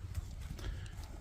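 A horse of pure Kyrgyz breed walks slowly, its hooves clip-clopping in an uneven rhythm. The steps are faint and distant over a low ambient hum, with no voices.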